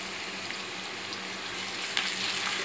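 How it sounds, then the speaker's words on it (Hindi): Chopped onion sizzling in half a cup of oil in a kadhai, a steady close hiss and crackle that holds evenly for a few seconds, with a slight rise near the end. "इस प्याज को यहाँ पे थोड़ा सा भून रही हूँ।"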